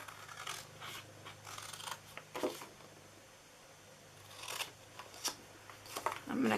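Scissors snipping through paper while shaping a jewelry gift box, a run of short, crisp cuts in irregular bursts at close range, with pauses between them and a faint steady hum underneath.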